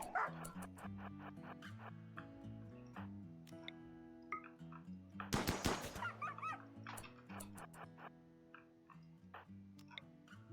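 A dog in the video game RimWorld barks and whimpers in short, quick yips, with a louder burst midway, layered over steady melodic game music.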